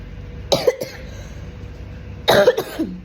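Two separate coughs from a woman with tonsillitis, close and loud, about two seconds apart against a quiet background.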